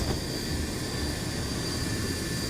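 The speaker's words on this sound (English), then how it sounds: "So that's the flight starting to come in." An airplane arriving at a Highland airport gives a steady, broad roar of engine noise, moderately loud and continuous, with no talk over it.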